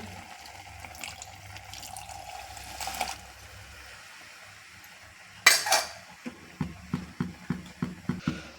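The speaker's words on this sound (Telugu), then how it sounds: "వాటర్ యాడ్ చేయాలి వాటర్ యాడ్ చేస్తున్నాను" Water poured into a cooking pot of stuffed brinjal curry, a soft steady splashing over the first few seconds, followed by a sharp clatter and a run of rhythmic metal clinks from stirring or utensils against the pot.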